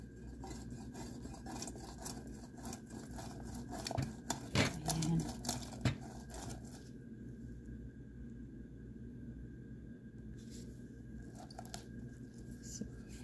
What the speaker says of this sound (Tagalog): So, i-crush natin yung ating gulaman.